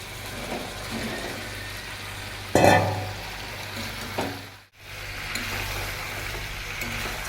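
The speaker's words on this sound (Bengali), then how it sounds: "চিকেনটা দিয়ে একটু নাড়াচাড়া করে নিচ্ছি" Chicken and capsicum stir-fried in a pan for a home-style chilli chicken, a steady broadband sizzle with a louder burst of scraping and hiss as ingredients go in, then a brief dip before the frying noise resumes.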